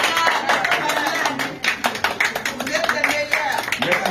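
A crowd applauds at a presidential birthday celebration, dense uneven clapping running throughout under talk and background sounds.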